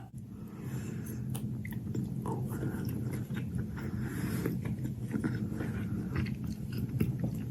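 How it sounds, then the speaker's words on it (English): A person chewing food close up, with steady wet biting and crunching over a continuous low hum, with no talking. "I don't like her only chewing just a couple of times and then big gulp swallow"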